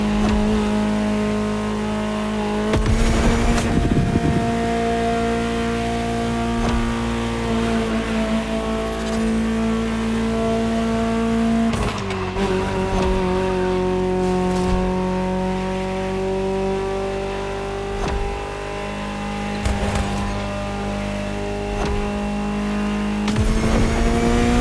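Ferrari supercar engine in The Crew Motorfest holding a steady, loud drone, with gear-shift breaks and rising revs through the run; no talking.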